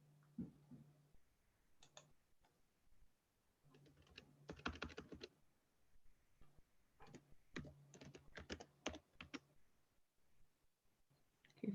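Bursts of typing on a computer keyboard: quiet, close clusters of rapid key clicks separated by short pauses, with a faint low hum beneath.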